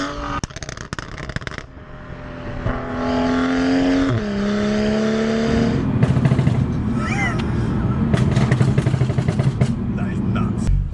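A loud 390 bhp BMW 135i M engine revs hard after a few sharp clattering knocks, its pitch climbing and dropping through gear changes, with crackling pops near the end.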